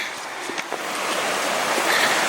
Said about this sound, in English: The sound of the river, Little Qualicum River, which drains Cameron Lake.